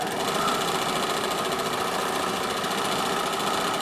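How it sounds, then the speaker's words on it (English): An overlocker stitches pieces of fabric together with a steady, fast mechanical chatter that runs without pause, close and even throughout, with no voices. "So I'm going to overlock both of these at the same time."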